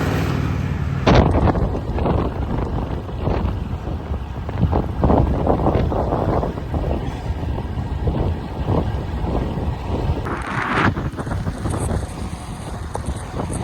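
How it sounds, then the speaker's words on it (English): Strong headwind buffets the microphone of a cyclist riding a normally fast stretch of road, a loud, continuous rumbling gust noise that swells and eases throughout with no speech. "I'm riding against a headwind right now on the part that normally is very fast"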